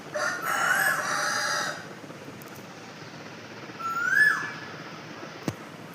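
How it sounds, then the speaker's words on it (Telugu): A rooster crows twice, the first call near the start and a second a few seconds later, moderately distant over quiet background hiss. "మా పక్కన కోళ్ళు కూడా అరుస్తుంటాయండి"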